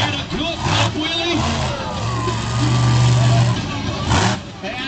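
The Hot Wheels monster truck roars and revs at a Monster Jam show, a loud close engine surging and holding a high rev, beneath an announcer's commentary and crowd noise.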